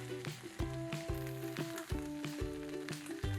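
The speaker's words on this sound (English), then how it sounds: "Let's fry the bhindi and the onion for 5 minutes." Bhindi and onion petals frying in oil, a soft sizzle under a prominent steady musical background with repeated tonal notes, fairly faint.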